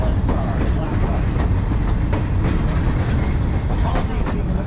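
Railroad track maintenance equipment rolling along rails on a siding, a loud, close, continuous rumble with rhythmic clicking of wheels over rail joints, no talk.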